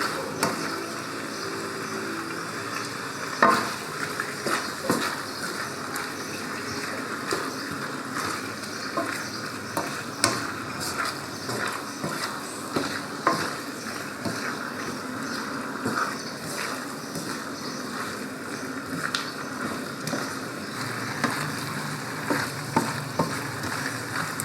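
Arrabbiata sauce for rigatoni stirred in a pan, a low simmering bubble and hiss with intermittent soft scrapes and knocks of a spoon, moderately close, continuing without speech.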